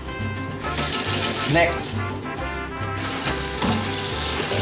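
Water runs from a kitchen tap over shrimp being rinsed in a sink, a steady close splashing stream with a brief word spoken over it.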